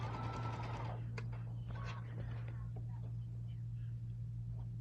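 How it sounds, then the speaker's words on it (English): A sewing machine runs briefly while stitching quarter-inch seams on a quilt block, a steady close whir under a constant low hum, with soft talking nearby. "I'm going to sew this 1/4 inch, again, using 1/4 inch seams all the way through this"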